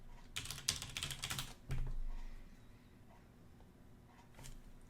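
A quick burst of keystrokes clatters on a computer keyboard as a command is entered, followed by a firmer key press and then quiet room tone with faint clicks.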